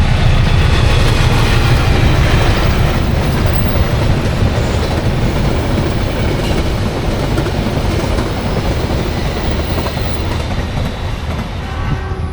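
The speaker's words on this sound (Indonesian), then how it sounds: "kereta, oke." A train rumbles past close by, a continuous heavy roar with rhythmic wheel clatter that slowly eases over the length of the clip.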